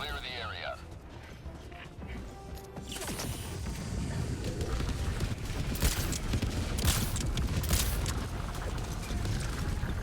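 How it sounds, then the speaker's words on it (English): Orbital barrage explosions in a video game strike a bot outpost, a dense, sustained rumble of blasts and crashing debris that swells after a quieter start and keeps pounding under talk. "Bot outpost spotted. Firing orbital barrage."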